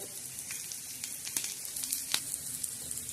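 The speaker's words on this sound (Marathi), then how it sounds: "आपला असा छान असा खमंग असा काळा मसाला भाजायचा झालेला आहे" Black masala with coriander and millet roasts in a pan, giving a soft, close crackle and sizzle with scattered small pops and no voices.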